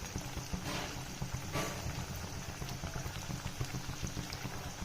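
Banana flower vada fry in hot oil with a steady, dense crackling hiss, continuous and close, with no voices.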